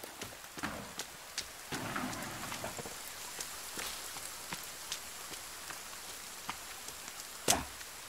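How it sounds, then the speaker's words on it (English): Rain falls in a deer hunting video game, soft patter and scattered sharp drops tapping on surfaces, quiet and intermittent with irregular louder hits. "Especially in the rain."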